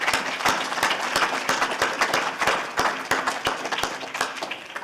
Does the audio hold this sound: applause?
yes